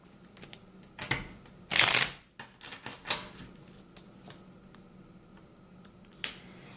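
Tarot cards shuffled and drawn for a reading, with a loud riffle burst, then scattered crisp snaps and slides of cards being handled, close and without talk.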